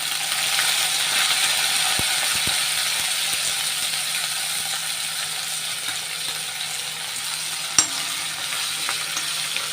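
Ginger, green chillies and curry leaves fry in hot oil, a steady broadband sizzle running throughout with faint scraping stirs and one sharp clink of a utensil near the end.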